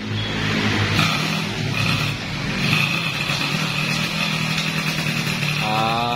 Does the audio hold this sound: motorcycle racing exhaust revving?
yes